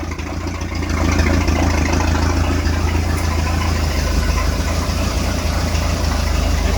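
A speedboat engine idles steadily and close by, with a continuous low rumble and a faint knocking texture that holds throughout, and no talk over it.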